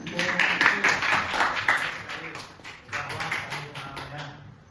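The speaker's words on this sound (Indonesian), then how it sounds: "Tepuk tangan" A classroom of students in an Indonesian school claps together, a brisk flurry of overlapping hand claps that swells and then fades near the end.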